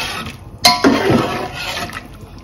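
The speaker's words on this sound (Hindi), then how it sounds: "पानी और डाल दो" Water splashes and pours into a pot of beef pulao with potatoes, green chillies and dried plums, starting with a sharp clatter before a rushing stream fades out.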